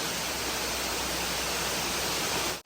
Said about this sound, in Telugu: సో వాటర్ ఇలా వచ్చి అలా వెళ్తున్నాయి అన్నమాట మొత్తం